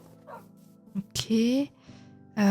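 A small dog gives a few sharp, close barks and yips in a kitchen setting where meat is being prepared, with a voice talking between the barks.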